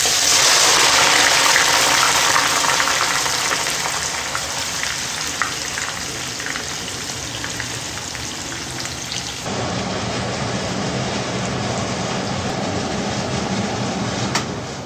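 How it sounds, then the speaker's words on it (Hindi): Sliced onions frying in hot oil sputter with a loud, dense, continuous sizzle that hisses steadily without pause, close up and with no voices. "अब तेल गर्म हो गया, अब इसमें प्याज डाल देते हैं।"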